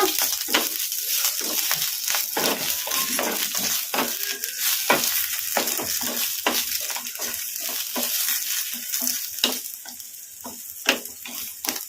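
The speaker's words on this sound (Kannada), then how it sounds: "ಫ್ಲೇಮು ಮೀಡಿಯಮ್ ಫ್ಲೇಮಲ್ಲಿ ಫ್ರೈ ಮಾಡ್ಕೋಬೇಕು ಹಸಿಮೆಣ್ಸಿನ್ಕಾಯಿನ ಹಸಿಮೆಣ್ಸಿನ್ಕಾಯಿ ಚೆನ್ನಾಗಿ ಮೆತ್ತಗಾಗೋವರೆಗೂ ಫ್ರೈ ಮಾಡ್ಕೋಬೇಕು" Green chillies fry on a medium flame with a constant crackling sizzle, punctuated by many quick stirring clicks and scrapes of a spatula against the pan, close and fairly loud throughout.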